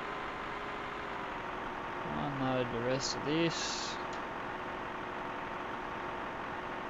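A tractor engine idles in Farming Simulator 2013 as a steady, low mechanical hum that runs unchanged throughout, while someone speaks briefly over it.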